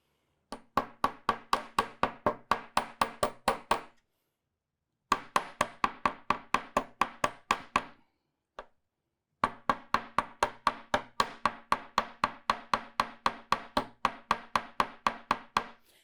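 Rapid, steady hammer blows flattening metal wire, a long run of sharp ringing strikes, a pause, a few more bursts, then another long even sequence.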